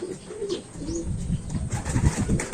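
Racing pigeon cooing softly in low, rounded calls, a champion bird just returned to its loft after four months, heard close against light background noise.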